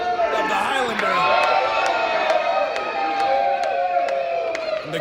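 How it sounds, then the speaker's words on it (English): A pro wrestling crowd cheers and shouts loudly and continuously during a match between Calder McColl and Andy Brown, with rising whoops and sharp claps over a dense, excited roar. "the crowd here loving it"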